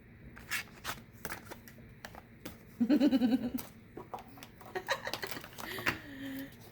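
A deck of oracle cards shuffled by hand: a quick riffle of rapid papery flutters in the middle, surrounded by scattered taps and card handling, close and moderately loud.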